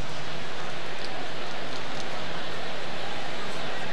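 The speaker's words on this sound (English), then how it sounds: "as the rain starts to fall here at Fenway" Steady hiss of rain beginning to fall over a Major League baseball game at Fenway Park between the Indians and the Red Sox, a continuous broadband wash with no distinct drops, carrying on under faint crowd noise.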